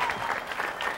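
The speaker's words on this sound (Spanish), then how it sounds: "Un aplauso para todos" A live interview audience applauds with steady, dense clapping that stays fairly even through a short burst, close and moderately loud.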